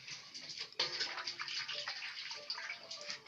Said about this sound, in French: On lave ça bien. On lave ça bien. On rince.